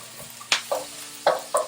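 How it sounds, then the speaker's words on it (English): Vegetables sizzle while being stir-fried in a hot pan, with short bursts of crackle and scraping as they are tossed and stirred, each flare of sizzle rising and fading over a low background hiss. "you want them to really sizzle"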